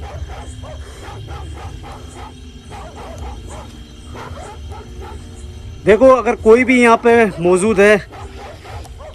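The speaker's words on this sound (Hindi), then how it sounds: "पता नहीं कुत्ते क्यों भौंक रहे हैं" Dogs bark in a loud burst of repeated barks and yelps after a stretch of quieter talking, with the barking fairly close.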